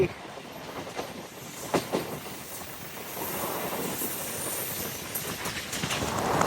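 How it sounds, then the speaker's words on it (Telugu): A MEMU express train rolls along the rails with a steady moderate rumble and hiss, a few sharp clanks early on, heard from onboard with no speech. "మన ట్రైన్ ఏమో కిలింగిట బ్రూటల్ అంటూ ముందుకు వెళ్ళిపోతుంది"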